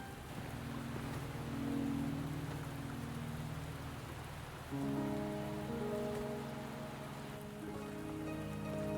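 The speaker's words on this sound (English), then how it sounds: "Are you trapped here by the rain?" Steady rain pours onto surfaces in the video game Wuthering Waves, a constant hiss with soft musical tones layered underneath, continuous and moderately loud with no voices.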